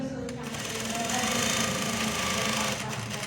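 A sewing machine runs steadily, stitching a lined blouse, its fast mechanical whir holding an even level across the whole stretch.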